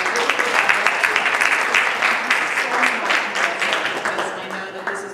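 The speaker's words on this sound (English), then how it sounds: "give a huge thank you and a round of applause to Melissa and her entire team" Sustained, dense applause from an audience at an awards ceremony, a steady wash of many hands clapping for the event organisers, loud and continuous with some voices mixed in.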